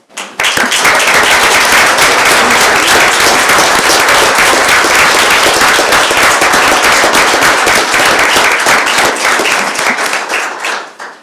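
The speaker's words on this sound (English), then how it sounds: "They really need to get your applause." Loud, sustained applause for veterans from a large crowd at a city commission meeting, dense and steady clapping that continues for about ten seconds before tapering off.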